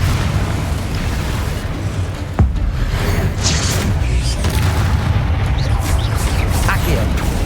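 Confringo spell explosions in Hogwarts Legacy, a booming blast followed by rumbling game noise and bursts, under a voice speaking.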